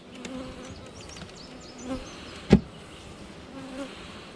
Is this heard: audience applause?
no